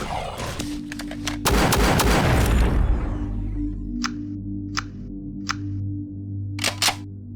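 A shotgun fires once with a loud, heavy blast in a first-person shooter, its roar trailing off. A low hum holds underneath, and a few sharp mechanical clicks follow on their own.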